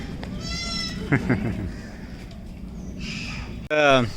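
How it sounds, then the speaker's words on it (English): Goats bleat at a rural island spot near Mumbai, with a few quavering calls heard near and clear, one at the start and two more toward the end, amid background chatter. "There's some goats here."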